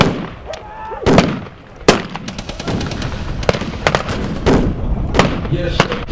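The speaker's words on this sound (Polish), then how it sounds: "Jeszcze słychać pojedyncze wystrzały z pistoletów maszynowych." Single submachine gun shots crack out at a WWII battle reenactment, with sharp, irregular reports near and far over a busy outdoor background, and voices can be heard as well.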